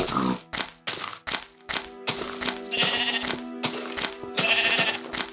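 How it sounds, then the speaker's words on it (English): Sheep in the video game Minecraft bleat several times in quick bursts, close and fairly loud, over steady in-game background music. "I think I saw a brown sheep"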